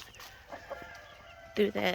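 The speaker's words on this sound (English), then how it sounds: "This is where the fat chickens live." Chickens cluck in short bursts in an egg farm hen yard, a few soft calls then two louder squawks near the end, over faint background noise.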